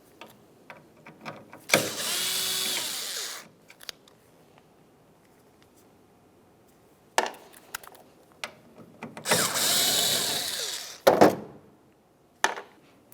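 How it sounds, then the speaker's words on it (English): A power tool backs out T25 Torx screws from the tailgate of a 2005-2010 Dodge Dakota, two sharp whirring bursts of a few seconds each, separated by clicks and handling taps. "you're going to be looking for two T25 Torx screws. Let's remove the pair."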